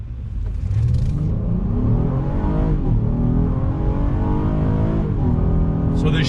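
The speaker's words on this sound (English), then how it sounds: "I love the sound coming from the engine." A 2019 Acura MDX A-Spec SUV engine revs hard and climbs through the gears from a standstill, a loud, close roar with brief dips at each quick shift.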